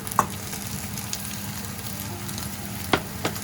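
Bitter gourd (ampalaya) stir-fries in a hot pan with a constant moderate sizzle, broken by a few light clicks of stirring.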